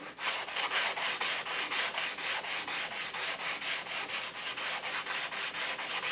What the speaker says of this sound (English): now fine sanding.